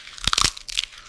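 Crunching on the crispy topping of a bowl of Mi Quang noodles in Quang Nam: a close, loud cluster of crackly bites, then a second, softer burst of crunches a moment later.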